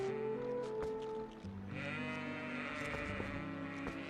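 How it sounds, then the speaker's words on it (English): Goats in the Twilight Princess HD village bleat repeatedly over soft background game music, several wavering calls close by. "What's up, all you weird goats?"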